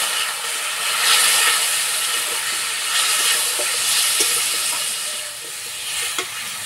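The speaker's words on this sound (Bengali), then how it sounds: "অল্প একটু জল দেবো।" Water splashes into ground cumin, chili and turmeric frying in a pan for a fish curry, producing a steady, loud broadband sizzling hiss that continues alone.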